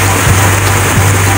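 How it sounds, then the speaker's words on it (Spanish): Rain falls on a Saturday afternoon in Dayton, Ohio, a steady dense hiss that is loud and close, with no talking, over a low constant hum. "Miren cómo llueve"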